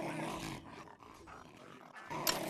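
A dog growls and roars in the video game Gorn, a rough, mid-loud snarl that breaks off and returns near the end, with no talk over it.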